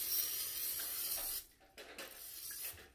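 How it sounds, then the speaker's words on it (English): Oil spray misted from a can onto breaded mac and cheese balls in an air fryer basket, a steady close hiss for over a second, then fainter short bursts. "So let me spray just a little bit."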